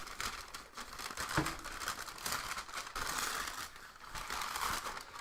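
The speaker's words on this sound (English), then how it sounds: "I'll try to mute the sound of the paper" Paper packaging from fan mail is torn and unwrapped up close, with continuous crinkling and crumpling, a few sharper rips, and no talk.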